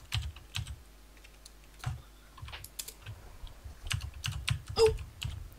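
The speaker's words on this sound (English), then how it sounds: "I'm typing." Someone types on a computer keyboard during a game session, with irregular clusters of close, crisp clicks and taps that speed up toward the end.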